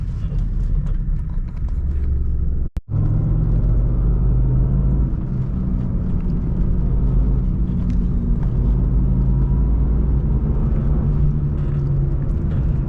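A steady, muffled engine rumble and road hum fill the inside of a moving 1997 BMW E36 M3, even and fairly loud with one brief dropout.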